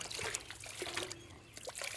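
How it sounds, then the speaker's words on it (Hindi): A faint, steady trickle of water runs over a kulfi popsicle mold to loosen the frozen treats, soft and close with small splashy peaks and no talk. "मोल्ड पे डालेंगे पानी"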